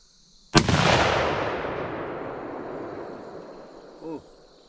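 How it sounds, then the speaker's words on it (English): A single sharp, loud deer rifle shot at a range target cracks out and leaves a long, fading echo, followed near the end by a brief faint sound. "I'm going to shoot at the bottom right target."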